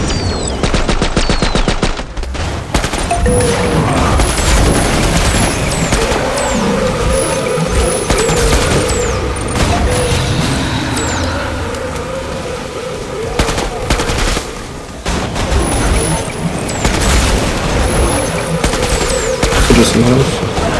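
Sustained rapid gunfire and shooting from a Husk enemy in the Killing Floor 2 game, dense automatic bursts and blasts running continuously and loud, with a voice talking partway through.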